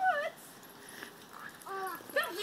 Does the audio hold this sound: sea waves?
no